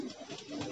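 A single returning homing pigeon coos softly and briefly at a loft, faint and close, with no voices.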